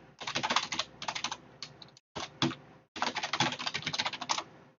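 Fast bursts of clattering keystrokes on a noisy computer keyboard, close and loud, with brief pauses between runs of typing.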